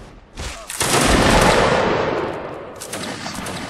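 Musket line volley in the Mount & Blade video game: a loud crackling burst of many shots fired almost together, rolling and fading over a few seconds, with scattered later pops.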